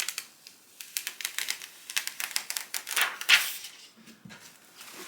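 Heat transfer vinyl peeled slowly off a cooled Cricut project, giving a rapid series of crisp, close ticking and crackling pops with no voices.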